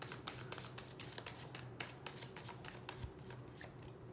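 Tarot cards being shuffled by hand, a quiet run of crisp riffling bursts and soft taps repeating in uneven rhythm, close and alone without talk.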